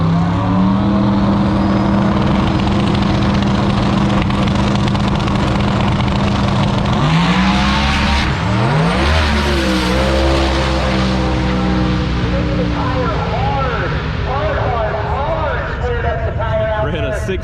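A drag race car launches down a quarter-mile strip against a Camaro, engine roaring and revving hard through shifts at a loud outdoor event while people talk over it.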